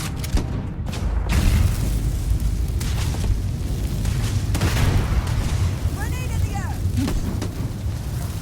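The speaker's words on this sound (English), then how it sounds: "Grenades at me." A grenade blast in the sci-fi shooter Starfield, a heavy low boom that fills the scene amid ongoing combat rumble, with voices calling out during the fight.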